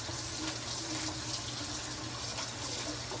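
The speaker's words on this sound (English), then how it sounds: "I'm just gonna take them over to the sink and give them a quick rinse" Cold water runs steadily from a tap over apples in a sink, a continuous hissing rush with light splashing and nobody talking.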